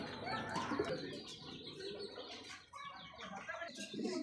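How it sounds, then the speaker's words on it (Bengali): Racer pigeons, including tiger-patterned birds, coo softly and repeatedly at a pigeon seller's, faint and continuous against a busy background. "দেখতে পাচ্ছি চমৎকার আরো রেসার কবুতর"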